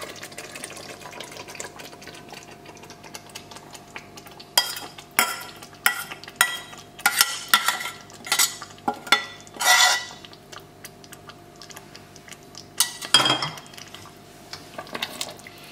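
A spoon stirs spices into boiled dal in a pot of Goan-style lentils with meat and tamarind juice, in a scattered run of scraping, clinking strokes against the metal with quiet gaps between them.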